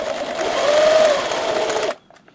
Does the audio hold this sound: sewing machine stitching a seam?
yes